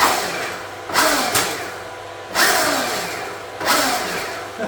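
A Stark Varg electric dirt bike on its 45-horsepower map accelerates in three sharp, close bursts of whining drive noise, each fading back before the next.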